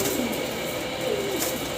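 Soft, low coos of fancy pigeons at a market over a steady hum of background noise, continuous and fairly close.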